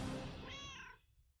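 A pet cat in the Sea of Thieves pirate video game gives a single close, clear meow that rises and then trails off, with nothing else heard.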